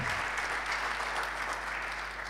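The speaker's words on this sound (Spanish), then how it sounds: "si quiere darle un aplauso puede hacerlo." Church congregation applauding during a Sunday service, a steady, fairly quiet wash of clapping from many hands lasting a couple of seconds.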